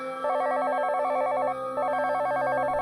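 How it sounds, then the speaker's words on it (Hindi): A mobile phone rings with an electronic ringtone, a loud warbling tone in two bursts separated by a short gap, and no talking. "इंस्पेक्टर की जेब में रखा फोन बज उठा।"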